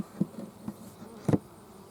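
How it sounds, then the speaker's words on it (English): Honeybees at a small five-frame hive with its lid shut to stop robbing, buzzing faintly and steadily, with a few brief louder passes as individual bees fly close. "And you'll see the bees come out of the front"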